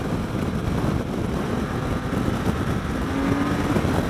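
A 2016 BMW K 1600 GT Sport motorcycle engine held at high RPM, a steady, loud, continuous drone heard close while riding, with wind rush layered over it and no talking.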